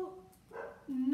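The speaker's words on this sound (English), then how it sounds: "My barking dog." A pet dog barks in a home, a couple of short yelping barks close by at the start and end, with a person talking in between.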